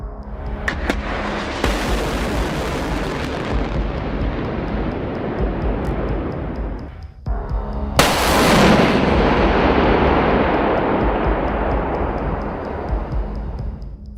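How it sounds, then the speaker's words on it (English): Artillery shelling in Kharkiv, Ukraine, two loud booming blasts a few seconds apart, each followed by a long rumbling roar and echo that fills the surroundings. "But in Kharkiv, Ukraine's second biggest city, shells struck a crowded market today."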